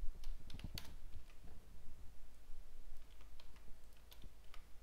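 A few quick keystrokes on a computer keyboard clatter softly and close up over a low background hum, tapping in a short, uneven burst as a file name is typed.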